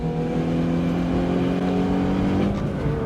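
A Hyundai i20N accelerating hard on a race track, its engine droning loud and steady with clear rising harmonics, heard from on board with no talking.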